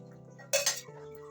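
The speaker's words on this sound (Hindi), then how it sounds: "तो अब इस बाउल में हम सबको ट्रांसफ़र कर लेंगे।" Spiced chickpeas for chana chaat are tipped into a mixing bowl with a short, bright clink of utensil on dish, two quick metallic taps in the middle of an otherwise quiet kitchen hum.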